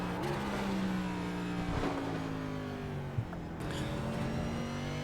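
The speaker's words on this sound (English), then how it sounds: "nice and easy on the throttle all the way to the exit of the corner, and wide open here at Sonoma" Race car engine in iRacing at Sonoma Raceway held at full throttle, a steady loud droning whine with falling then rising pitch through gear changes, close and continuous with no talk.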